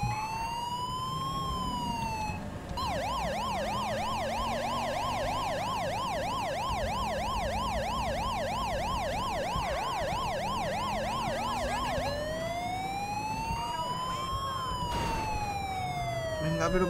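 A police car siren in GTA V with the LSPDFR mod wails, then switches to a rapid yelp for several seconds before returning to a slow wail, loud and close over engine noise.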